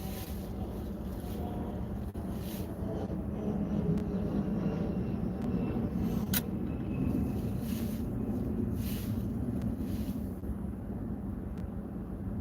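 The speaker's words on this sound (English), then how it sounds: "Oh, plane just took off. Small regional Delta jet." A small regional Delta jet takes off in a snowstorm, a distant, steady engine rumble blending with wind noise and never rising above a low, even roar.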